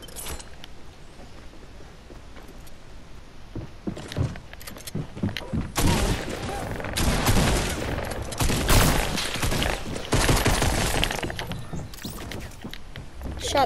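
Gunshots in a video game, scattered sharp reports early that give way to dense, loud bursts of fire in the second half, close by, with occasional thuds and a voice now and then.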